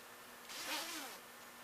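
A zipper on a handmade Renamon fursuit is pulled up in one quick, close, rasping stroke lasting under a second, set against a quiet room.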